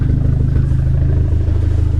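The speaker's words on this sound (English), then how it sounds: "I hear a loud car. Sounds boosted." Loud, boosted Dodge SRT4 engine idling close by at a winter car meet, a steady, rumbling low throb with a lumpy pulsing rhythm and no voices over it.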